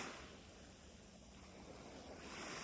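Ocean waves surging and crashing on a shore, a steady broadband wash with wind buffeting the microphone, rising slightly toward the end, with no voices.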